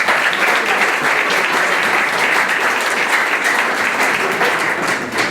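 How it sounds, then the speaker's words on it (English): An audience at an evening business pitch event gives a presenter a warm round of applause, dense, loud and close clapping that stays steady for several seconds before easing slightly at the end. "So please give him a warm round of applause."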